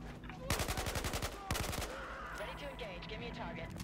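Enemy automatic gunfire in Battlefield 4 rattles out in two rapid bursts of sharp shots, followed by scattered battle noise and distant combat clatter.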